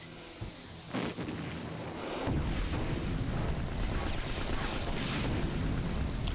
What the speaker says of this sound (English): we're just dealing damage here using these rockets